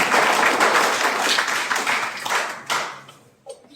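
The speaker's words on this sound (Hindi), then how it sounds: "उनका जोरदार तालियों से स्वागत करें।" Hearty applause at a district-level workshop welcoming the district coordinator, a dense wash of many hands clapping close and loud, thinning and tapering off over the last second.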